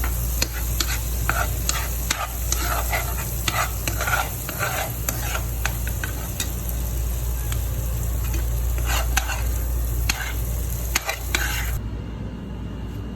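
Eggs are stirred in a pan of frying egg curry with tomato, making a loud, steady sizzle. Repeated scraping strokes of a spoon against the pan run over a low hum.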